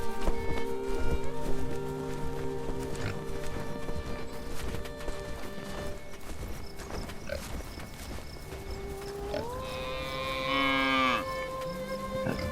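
Cattle lowing in the medieval survival city-builder game Bellwright, several drawn-out moos near the end over steady ambient game music and background sounds.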